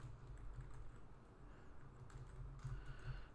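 Faint, steady typing on a computer keyboard while entering a switch configuration for a VLAN lab in EVE-NG, with quick irregular key clicks over a low background hum and no talking.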